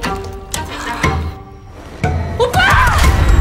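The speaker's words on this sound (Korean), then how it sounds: "새벽만 되면 쿵쾅거리는 소리가 들려서" Heavy thumps and bangs in a house at night, several loud knocks spaced about a second apart, then a busier burst of clattering and crashing near the end, heard close with a voice briefly cutting in.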